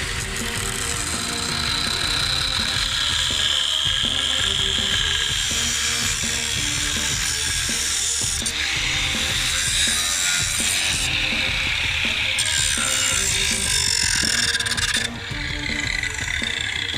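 Power saw cutting through a Jeep's steel axle housing, a steady loud grinding whine held for the whole stretch with slight shifts in pitch and a brief dip near the end, no voices.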